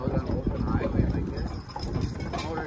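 A double team of black Percheron horses drawing a wagon, their hooves clip-clopping in a steady rhythm close by, with the rumble of the wagon and people talking over it.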